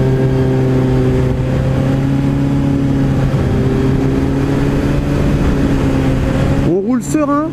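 A Suzuki 750 GSR motorcycle engine droning steadily while being ridden, loud and close with a stable low hum, then a quick rev change near the end.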